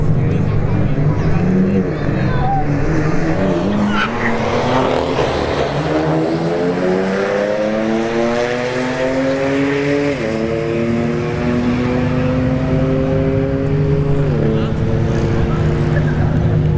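A Kia Stinger and a BMW M3 drag racing on a strip, engines roaring hard as they pull away, with the pitch climbing and dropping sharply at gear shifts, loud and continuous.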